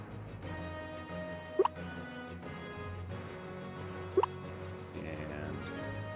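Two bright, distinct water drips in a video game, spaced a few seconds apart, each a quick plop standing out over a steady low ambient hum and tonal background.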